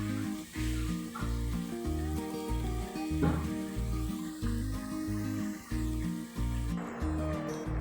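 Thattai, a rice flour snack, deep-frying in hot oil, giving a steady, dense sizzle and bubbling that fills the whole stretch at close range, with a rhythmic low thumping running beneath it.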